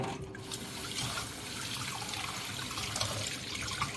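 Water running and splashing as it is poured into an opened tin of Swedish fermented herring (surströmming) and drained off, a steady close liquid wash with no talk.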